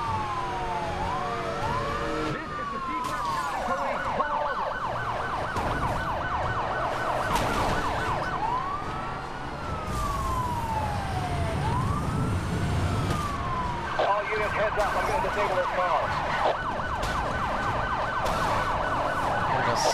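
A wailing police siren sweeps up and down repeatedly, loud and steady, over continuous engine and traffic noise from Need For Speed: Hot Pursuit.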